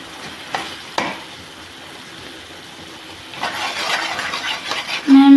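Ginger-garlic paste is stirred into a simmering chicken curry, making a steady close frying hiss with two sharp spoon knocks early on and louder bubbling, scraping stirs building toward the end, with no talk.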